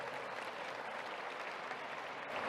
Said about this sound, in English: Please applaud them and all their work.